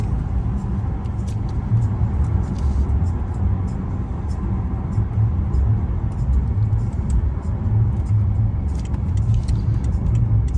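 2011 Rolls-Royce Ghost with a 6.6-litre V12 cruising on a motorway, heard from inside as a steady, smooth low rumble of engine and road noise, muffled and unbroken throughout.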